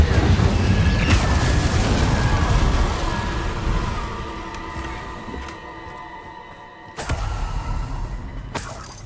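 A Bombarda blasting spell in Hogwarts Legacy booms loudly and rumbles on, tailing off over several seconds before a second sharp blast cracks near the end, with no voices.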